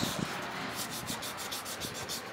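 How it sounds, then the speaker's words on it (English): Continuous soft scratchy rubbing of sandpaper on wood in quick back-and-forth strokes, hand sanding out cross-grain scratches, close and fairly quiet, with no talking. "requires a little bit of hand sanding to get those"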